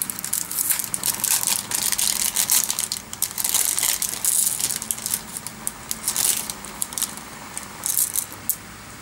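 Crinkly craft paper is handled and rustled in a paper-crafting setting, producing a steady run of close, bright crackling and crunching sounds with brief pauses and no talking.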